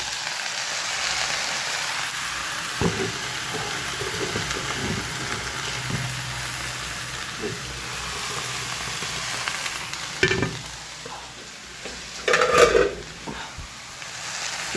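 Bitter gourd and potatoes fry in a pan, a steady close hiss of sizzling oil running throughout, with a few clinks and scrapes of stirring near the end and no talk.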